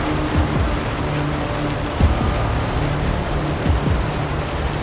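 Heavy rain pours down steadily in a dense, even hiss that fills the whole scene, with a few low dull thuds rising out of the downpour.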